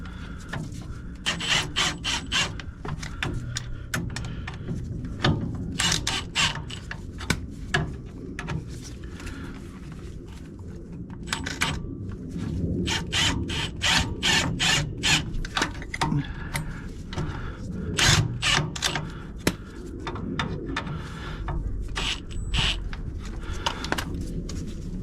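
Nuts are tightened on a caster correction plate fitted to a 1979 Series 3 Land Rover, heard as a run of close, repetitive scraping, ratcheting strokes that continue steadily throughout.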